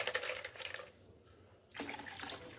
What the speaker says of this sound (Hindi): तो देखिए उसी जग में मैंने मज़ीद पानी डाला है